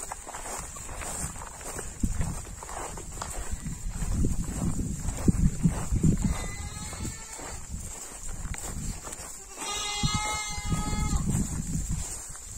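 Goats and young kids bleating several times on a farm, close by, over footsteps and shuffling, with a person speaking in between.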